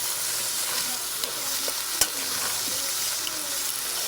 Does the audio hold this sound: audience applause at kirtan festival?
no